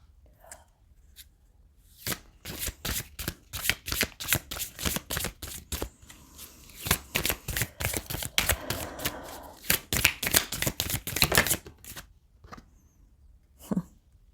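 Tarot or oracle cards are shuffled by hand in a rapid, close series of crisp riffling flicks that start after a few isolated taps and run steadily for about ten seconds before trailing off into a couple of final soft taps.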